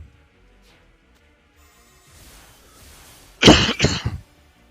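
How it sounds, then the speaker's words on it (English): Two or three sharp, loud coughs close together near the end, after a quiet stretch with faint background noise. "cough is starting to go"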